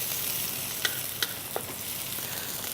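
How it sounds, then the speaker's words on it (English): Thinly sliced onions frying in a pan for a Malay main dish, a steady soft sizzle throughout with a few brief stir clicks and scrapes, close and alone with no talk. "So now I'm frying the onions."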